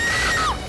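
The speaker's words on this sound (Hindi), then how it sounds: "चीखने की आवाज आई" A woman lets out a loud, shrill scream in a horror drama scene, a single short piercing cry whose pitch bends downward before it breaks off.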